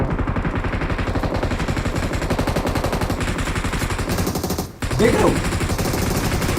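Rapid automatic gunfire from a BGMI mobile battle royale match rattles in dense, continuous bursts. It breaks off briefly near the end, then resumes, and a voice speaks over it.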